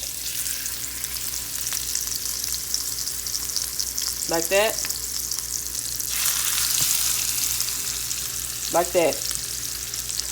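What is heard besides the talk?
salmon frying in a pan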